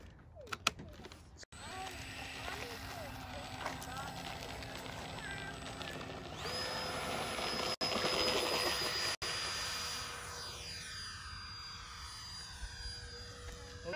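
A remote-controlled model jet trainer takes off, its engine whine steady and then climbing in pitch as it gains speed and pulls away, with some wind noise.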